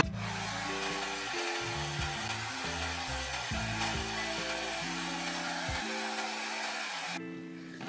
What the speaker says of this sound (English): And then I take my blow dryer and I literally just blow dry it out.